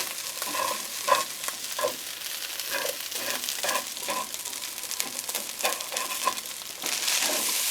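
Fried rice stir-fried in a pan that is a little too hot on full heat: a steady, close sizzle with repeated scraping and clattering strokes of the spatula, and no talking.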